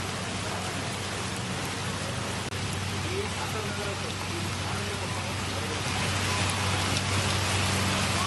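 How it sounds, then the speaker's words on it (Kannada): Heavy rain pours over Bengaluru's Yeshwanthpur area, a dense, unbroken hiss of downpour that stays loud and even throughout. "ಯಶವಂತಪುರ ಸೇರಿ ಹಲವೆಡೆ ಭಾರೀ ಮಳೆ ಆಗ್ತಾ ಇದೆ"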